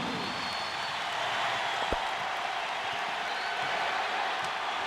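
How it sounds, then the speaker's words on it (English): A packed basketball arena crowd at a 1994 Seattle SuperSonics playoff game against the Denver Nuggets roars in a steady, dense wash of cheering and applause that holds at a constant loud level throughout. "Crowd on its feet."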